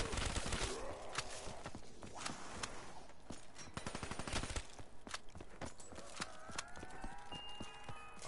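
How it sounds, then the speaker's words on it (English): Rapid SMG bursts in a shooter game, dense rattling shots in quick clusters, loud and close, with brief gaps between volleys and no voices. "With this SMG, I bring death. I will fire honor at them mightily."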